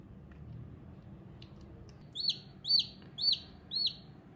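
A newly hatched karunkozhi chick in an incubator gives four evenly spaced, high chirps in the second half, each clear and close, after a quiet start with faint clicks.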